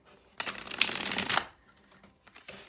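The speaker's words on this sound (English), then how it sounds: "Give this a good shuffle" A deck of tarot cards is shuffled close up, a dense riffling burst lasting about a second, followed by a few soft card taps and handling sounds.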